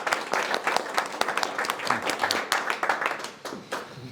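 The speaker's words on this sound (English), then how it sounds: "Give me another clap." An audience at a library talk on cycling history claps steadily for about four seconds, a moderate, close burst of applause with no talk over it.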